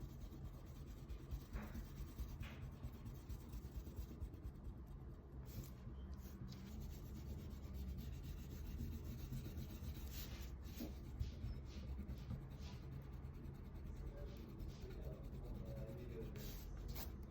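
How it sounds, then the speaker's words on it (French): An eraser rubbing on paper while shading a pencil drawing of a Nike sneaker, a steady faint scrubbing with short bursts of stroke, close and quiet over a soft constant hiss. "on gomme un petit peu pour affiner l'avant"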